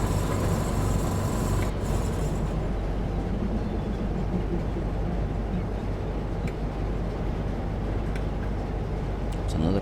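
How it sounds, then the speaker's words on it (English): Train pulling into Blackpool North station in Train Sim World, a Class 142 unit, a continuous low rumble and rail noise with a few faint clicks, heard steadily in the background. "That's because there's a train coming in."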